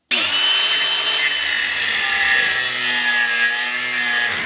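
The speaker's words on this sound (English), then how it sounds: "Right, let's get grinding then." An angle grinder cuts into the aluminium lid of a Yazaki 48V MHEV DC-DC converter from a Land Rover, clamped in a vise. It gives a loud, steady high-pitched whine from start to finish, with no talking.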